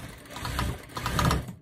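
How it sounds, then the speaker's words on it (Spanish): A Yuki industrial sewing machine stitches the waist of a skirt, giving a close, moderately quiet whirring hum in two bursts that swell and fade before stopping abruptly. "La máquina, pues ya saben que es una máquina industrial de la marca Yuki"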